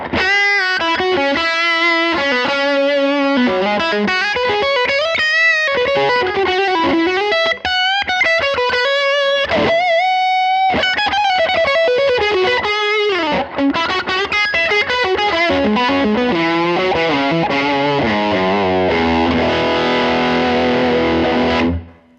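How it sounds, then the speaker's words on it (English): Electric guitar on the humbucker bridge pickup, through a Line 6 Helix Grammatico drive model with smooth, creamy overdrive, plays a continuous melodic run of sustained notes and chords, loud and close, ending in a held ringing chord. "This gave me such a nice kind of smooth, creamy overdrive."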